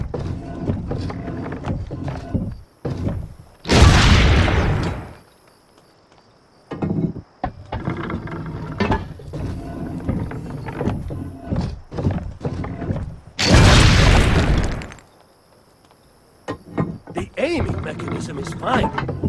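Two loud, booming cannon shots from Assassin's Creed Brotherhood ring out several seconds apart, each with a broad roar that fades, amid people talking and clunky game sounds.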